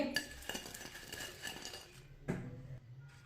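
Fried chicken pakoras are moved from a strainer onto a plate: close metal and dish clinks and scrapes in a short run, ending with one louder clatter and no talking.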